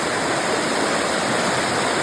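A river rushes steadily beneath a road bridge, a dense, even broadband roar of flowing water close by with no voices.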